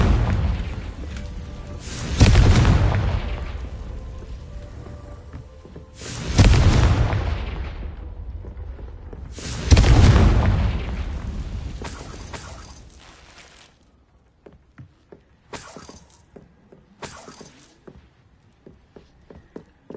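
Three heavy booming explosions from the Confringo fire spell in the video game Hogwarts Legacy, each with a long rumbling decay, followed by quieter short magical effect bursts and light game sounds.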